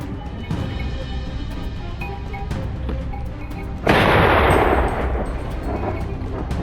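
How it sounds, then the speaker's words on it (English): A single loud gunshot fired in a forest during a wild boar hunt, a sharp broadband blast that rings out and decays slowly into a long echo over steady background noise. "The gunshot echoed through the forest."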